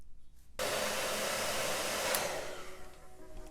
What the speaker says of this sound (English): blow dry on whatever is good and comfortable for you and your hair